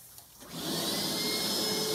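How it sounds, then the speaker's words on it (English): A water-suction vacuum pump starts up and rises into a loud, steady, close drone with a high whine that holds unbroken. "they start the water hoovering vacuum here. The water vacuuming suction pump."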